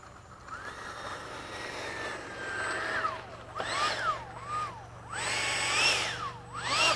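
A model F-5 jet taking off at an LFE flying event, a whining turbine that rises and falls in pitch as it climbs and passes, swelling louder in waves over outdoor background noise.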